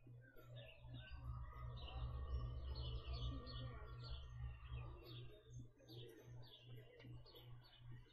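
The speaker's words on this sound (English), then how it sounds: "I look to my birds, Father." Birds chirping in the video game Everybody's Gone to the Rapture: soft, distant tweets and coos repeating through a quiet scene over a low steady hum.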